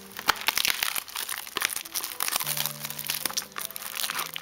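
Pokémon TCG Burning Shadows booster box packaging being cut open and handled, with crinkling plastic wrap and cardboard crackles in bursts throughout, close and moderately loud, with no talking.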